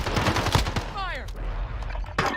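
Bursts of automatic gunfire in the battle royale shooter Warzone, rapid cracks packed into the first second, then a brief whooshing sweep and a lone later shot over steady game noise.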